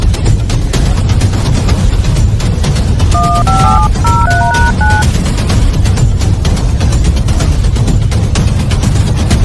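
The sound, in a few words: telephone dialing tones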